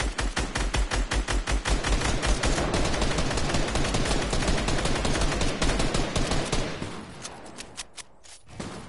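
Gunfire in the video game Fortnite Battle Royale: a dense, loud, rapid stream of sharp shots for about seven seconds, then thinning to a few scattered, quieter cracks near the end, with no speech.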